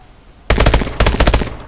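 Loud automatic gunfire bursts from Call of Duty Advanced Warfare, two rapid rattling volleys after a brief quiet start, close and dominant with no talking.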